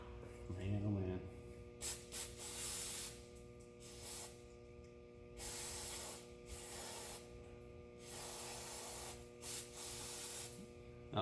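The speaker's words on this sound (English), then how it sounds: "Now obviously brake parts cleaner, it doesn't dissolve aluminum oxide, but it does blow the loose debris off" Brake parts cleaner is sprayed onto an M35A2 air pack caked with aluminum oxide during a teardown. It comes as a series of sharp, hissing aerosol bursts, about six or seven, separated by short pauses, close and fairly loud.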